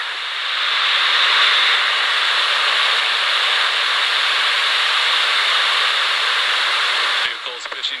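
A Falcon 9 rocket lifting off on a satellite launch mission produces a steady, broad roar of engine noise that holds at a constant level for several seconds before abruptly cutting down near the end.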